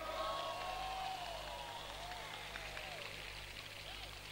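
A political rally crowd in Korat cheers and whoops, with shouting voices and scattered applause blending into a broad roar over a steady low hum.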